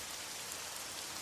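Steady rain patters outside an apartment, a dense, even hiss of drops on surfaces that holds constant throughout, with no voices.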